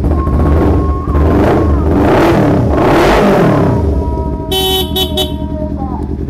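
A loud 250cc sport motorcycle with a short racing exhaust revs hard in several rising bursts, its raspy exhaust roaring close by, followed by a few short horn toots.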